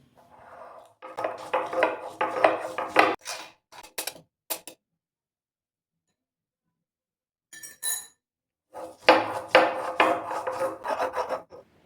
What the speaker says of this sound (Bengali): কয়েকটা গোলমরিচ নিয়ে শিলে বেটে নেব, কারণ মিক্সিতে যদি বাটা ভালো না হয়, তাই জন্য আমি শিলে বেটে নিচ্ছি